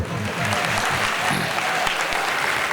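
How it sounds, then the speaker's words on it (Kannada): Audience applause at a village fair gathering in Halakere, a dense, continuous clapping that carries on steadily, with faint voices mixed underneath. "ಸ್ವಲ್ಪ ಚಪ್ಪಾಳೆ ಗಿಪ್ಪಾಳಿ ತಟ್ಟಿದ್ದು ಬರ್ತಾರೆ"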